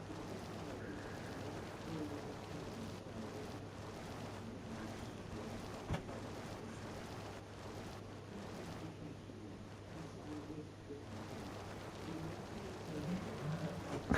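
Steady rain in Farm Sim 25, a continuous soft hiss and patter that fills the whole stretch at an even level, with no clear talk over it.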